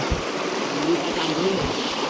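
A fast-flowing river swollen by monsoon rain during night fishing gives a steady, dense rushing roar throughout, with faint voices underneath.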